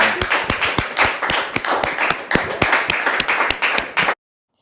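A church congregation claps and cheers in praise, giving a loud, close burst of rhythmic clapping that stops abruptly after about four seconds.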